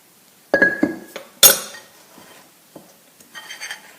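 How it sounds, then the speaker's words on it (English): A fork clinking against a bowl while blending muffin ingredients: a few sharp, close metallic taps and scrapes in short bursts, separated by quiet gaps, with a softer stirring scrape at the end. "take your fork and just blend the ingredients together"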